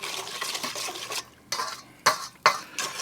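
Lemon icebox cake ingredients are mixed in a bowl, a series of wet scraping and clinking strokes coming in uneven bursts with short pauses, close and fairly loud, no talking.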